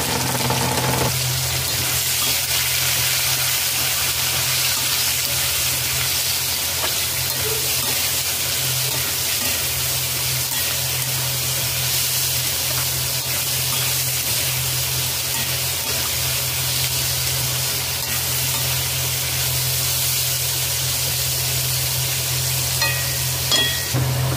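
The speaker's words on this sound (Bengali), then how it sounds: "আলু ভাজা হয়ে গেছে।" Potatoes frying in oil in a wok (kadai), seasoned with green chilli, salt, turmeric and chilli powder over low to medium flame, give a steady close sizzle and hiss with occasional stirring, no talking.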